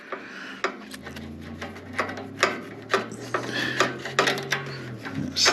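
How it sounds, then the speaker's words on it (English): A ratchet wrench backs out 10mm bolts on a Ryobi 4500 generator, close repeated ratcheting clicks and metallic rubbing in short bursts over a low steady hum. "we'll go ahead and take these bolts out. This is also a 10mm"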